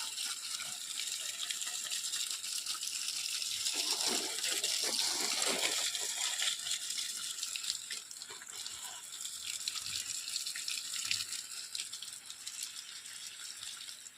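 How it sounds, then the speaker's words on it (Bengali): Water from a hose or tap splashes and gushes steadily while plants are watered inside a green shade house, with a brief rattling burst early on and no talk. "দেখুন এখানটা একদম পরিষ্কার করে দিই জল দিয়ে, আর এই গাছগুলো সব জল দিয়ে দেবো"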